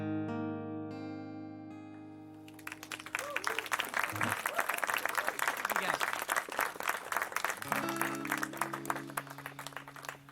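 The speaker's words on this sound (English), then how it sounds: "Thank you for applauding." An audience at an arts café poetry reading applauds with a few seconds of warm, steady clapping, framed by sustained musical tones that fade out before the clapping and return as it tapers off.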